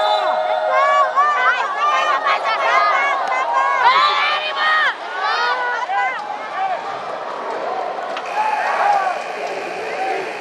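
Benilde supporters cheer at a women's volleyball finals match, with many overlapping shouts and yells rising and falling throughout, and a commentator talking over the crowd.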